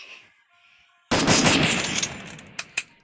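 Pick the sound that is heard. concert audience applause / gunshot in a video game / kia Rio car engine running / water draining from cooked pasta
gunshot in a video game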